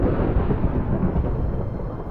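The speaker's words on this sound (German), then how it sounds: "Ah, Mann, dieser Gewitter." A thunderstorm in Minecraft, played with the FTB Ultimate modpack: a steady, loud low rumble of rain and thunder rolls on without pause for about two seconds, with no voices over it.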